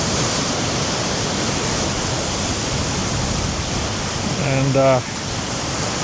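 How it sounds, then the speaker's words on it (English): Ocean waves at a shoreline, a loud, continuous rushing wash of surf, with a brief spoken word near the end. "waiting for some waves"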